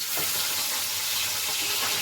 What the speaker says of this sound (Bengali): মাছ একবার ভাজছি ভেজে আরেকটা রাউন্ড বসিয়েছি